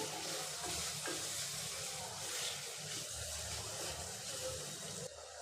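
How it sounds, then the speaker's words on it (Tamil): Steady crackling sizzle of vegetables frying in oil in a pan for veg pulao, with faint stirring scrapes, continuous and close throughout. "இந்த எண்ணெயிலே நல்லா வதக்கி விட்டுட்டு"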